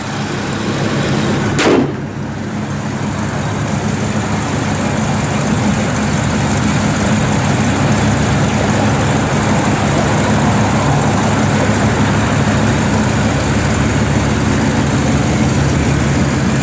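A 1966 Chevrolet Impala engine catches with a short burst, then settles into a loud, steady, rumbling idle that holds unchanged for well over ten seconds, close to the car.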